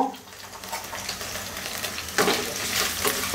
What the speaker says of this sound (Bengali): আমি একটা ফ্রাই প্যানে তেল গরম করে তার মধ্যে কিছু আদা রসুন, এই যে দেখেন এইরকম করে কাটা, এরকম চ্যাপটা চ্যাপটা করে কাটা, এগুলা দিয়ে একটু নেড়ে ভেজে নিব